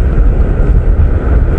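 Wind blows hard over the sea around a small fishing boat, a loud, continuous rush buffeting the microphone with no speech.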